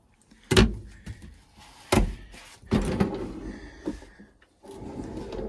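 Wooden utensil drawers in a truck camper slide open and shut several times, each ending in a sharp knock, with quiet rustling between them.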